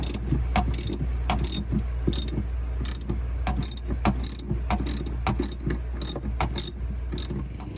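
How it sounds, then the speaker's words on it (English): A ratchet wrench with a 9/16 socket backs bolts out aboard a Coronado 35 ketch under restoration, giving rapid, close, crisp clicking in uneven runs and short strokes with no talking. "I've got a 9/16 socket and it fits perfectly. So we're gonna pull these out."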